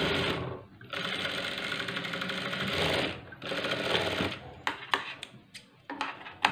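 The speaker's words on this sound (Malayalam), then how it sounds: "എല്ലാം ഡബിൾ സ്റ്റിച്ച് ചെയ്തെടുക്കാം." A sewing machine double-stitches a blouse in fast continuous bursts of mechanical rattling, close and clear, pausing briefly between runs before a few short stuttering stitches at the end.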